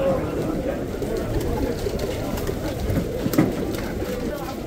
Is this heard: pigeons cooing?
yes